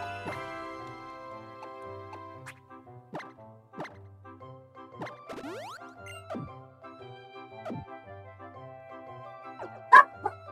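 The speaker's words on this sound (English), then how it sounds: "they're gonna keep barking" Dogs in the Pokemon X video game bark repeatedly as short, sharp digitized yips at an uneven rhythm over a light game melody, with a louder bark near the end.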